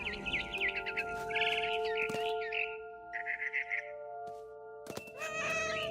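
Cat meows from the video game What Remains of Edith Finch, several short close meows in a row over a steady ambient hum, with a few thumps and a brief rustle near the end.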